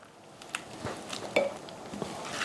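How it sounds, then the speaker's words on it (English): A spoon stirs fresh peach salsa in a bowl, making soft, scattered clinks and light scrapes. The sound is quiet and close, with no voices. "Now I'm gonna mix everything up."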